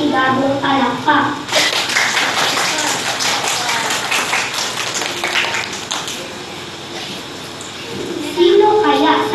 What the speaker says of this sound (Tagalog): Bigyan po natin sila ng masibabong palakpak.